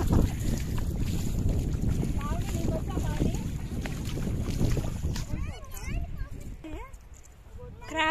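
Wind buffets the microphone beside the Indian Ocean on a Tanzanian beach, with a steady broadband rush of waves and surf beneath it and voices talking over the top throughout.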